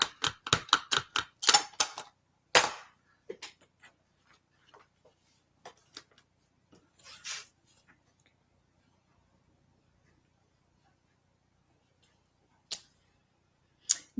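Rubber stamps are pressed and rubbed on scrap paper, giving a quick run of sharp taps and thumps up close, then scattered isolated knocks with long quiet gaps between them.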